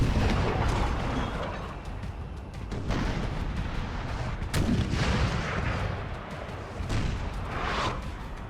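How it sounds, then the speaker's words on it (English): Booming 6-pounder artillery fire in the Napoleon Total War game, repeated heavy reports over a continuous battle rumble, with several sharp, loud blasts standing out. "So it's an artillery fight."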